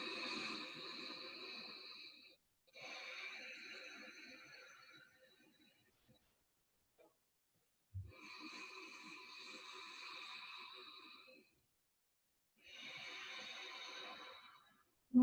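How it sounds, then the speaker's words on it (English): Slow ocean breathing during a restorative yoga session: long rasping breaths drawn through the back of the throat with the mouth closed, in about four sustained swells separated by quiet pauses, close and soft. "keep going with this ocean breath, this rasping, victorious breath at the back of your throat"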